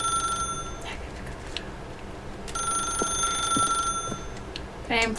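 A telephone rings in the video game Stanley Parable 2, giving repeated electronic trilling bursts with pauses between them. The rings are fairly clear with some background noise.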